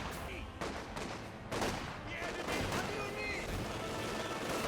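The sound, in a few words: machine gun fire in video game Company of Heroes 2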